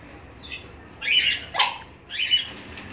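A few high, yelping barks from Belgian shepherd dogs ring out in short bursts, sharp and fairly close, with no voices around them.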